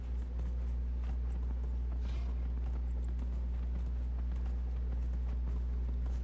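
Horse hooves clip-clop at a steady walking pace in the video game Dragon Age: Inquisition, over a constant low droning hum, with no voices.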